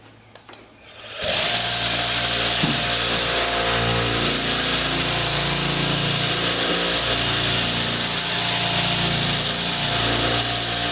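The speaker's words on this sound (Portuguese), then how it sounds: "Então vamos começar fazendo esse trabalho, removendo esse acabamento PU para aplicar o nitro." A power tool stripping the thick polyurethane finish from a Fender Telecaster guitar body starts up after a second of quiet and then roars loudly and continuously with a gritty, grinding whine.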